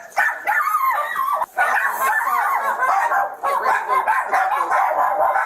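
Several dogs bark and yip inside a house, loud and close, in rapid overlapping bursts with a short pause midway; a person's voice occasionally mixes in.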